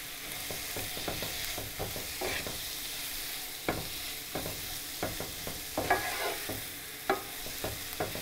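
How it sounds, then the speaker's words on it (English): Thinly sliced tomatoes sautéing in onion gravy for a Kerala duck egg roast, a steady sizzle broken by repeated soft scraping stirs of a spoon in the pan, close and alone. "Let's saute it very well."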